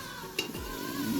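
Desi (country) chicken curry being stirred in a pan in a home kitchen, a close scraping stir with a faint sizzle running steadily underneath for about a second.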